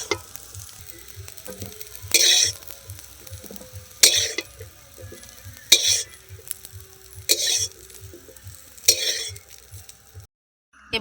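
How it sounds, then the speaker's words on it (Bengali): Cauliflower frying in oil in a pan for singara filling, a soft steady sizzle broken by about five loud stirring scrapes at regular intervals, close up with no talking. "ফুলকপিটা খুব ভালো করে আমি ভেজে নিচ্ছি"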